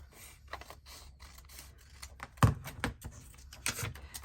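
Scissors snip paper for a travel journal, a series of quiet, close, crisp cuts in an irregular rhythm, one sharper snip standing out midway.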